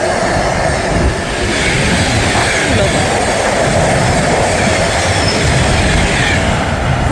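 A Class 390 electric train passes through Berkhamsted station at speed, a loud continuous rush of wheels and wind, close and steady throughout, with no voices.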